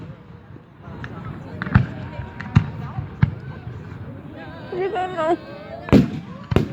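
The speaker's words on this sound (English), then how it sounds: "It's just a firework." Fourth of July fireworks in Delaware, Ohio go off as several sharp, loud booms spaced a second or so apart, with a crackling burst near the end, while people talk and a voice is heard between blasts.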